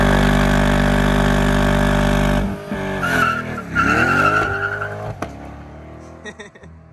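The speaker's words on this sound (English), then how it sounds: "All we could pretty much do is a rolling burnout so far" A Chevrolet Corvette C8 on Vossen wheels roars loudly at launch, then the revs drop and tires squeal through a rolling burnout, a shrill screech lasting a couple of seconds before fading into lighter engine noise.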